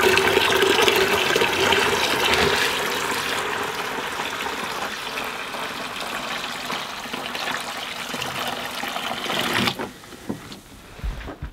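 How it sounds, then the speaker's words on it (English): Water gushes steadily into a container with a broad rushing sound that tapers off, followed by a few faint splashes and clanks. "then I'm gonna fill the bucket with"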